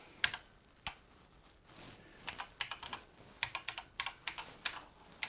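Keys clatter on a BBC Master 128 8-bit micro computer keyboard being restored, with sparse single presses at first and then quicker irregular bursts of close, crisp clicks.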